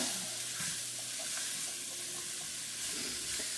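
Vegetables sauté in a hot pan for a Louisiana courtbouillon, a steady close sizzle and hiss of frying with occasional stirring scrapes, no talk.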